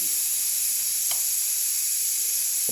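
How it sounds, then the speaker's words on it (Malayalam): Food frying in butter on a hot pan, a constant hissing sizzle at steady loudness with one brief faint tap partway through. "ബട്ടറിൽ ഇത് ആദ്യം രണ്ട് സൈഡും ഒന്ന് ഫ്രൈ ചെയ്ത് മാറ്റാം"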